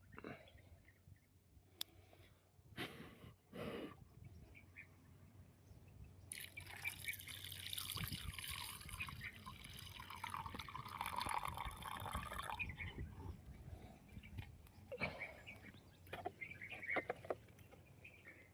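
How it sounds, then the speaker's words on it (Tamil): Fresh palm sap (padhaneer) pours in a soft, quiet stream for several seconds, with scattered drips and light handling noises before and after. "பயணியை ஊற்ற வேண்டிதான்."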